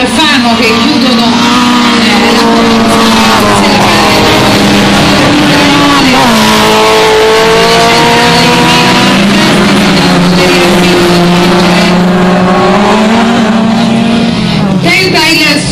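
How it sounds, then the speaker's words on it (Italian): Autocross race cars at a category A final contend on track, their engines droning loudly and continuously with shifting pitches as they accelerate and lift, under constant excited commentary. "tenta il sorpasso in questo istante Pasquali ai danni di Milo"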